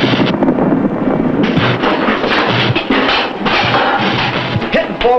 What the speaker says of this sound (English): That looked like gunfire to me,